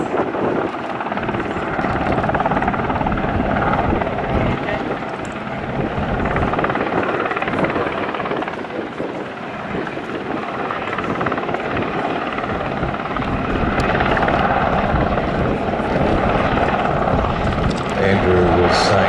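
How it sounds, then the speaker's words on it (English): A yellow Westland Sea King helicopter flies slowly along an air festival crowd line, its rotor and engine roar loud and sustained with wind buffeting, while an announcer talks over it through a public address system. "this beautiful big yellow helicopter as it flies sedately down the crowd line"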